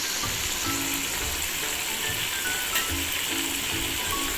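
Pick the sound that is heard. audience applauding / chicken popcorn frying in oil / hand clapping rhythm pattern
chicken popcorn frying in oil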